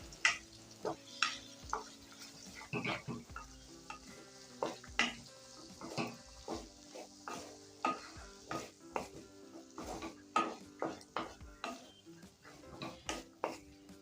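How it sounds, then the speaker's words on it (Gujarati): Spice masala is stirred into a cabbage and pea curry in a pan, a long run of spatula scrapes and knocks against the metal in an irregular rhythm, close and clear over a soft sizzle. "તો આપણે આ બધો મસાલો આપણે સરસ રીતના હલાવી અને મિક્સ"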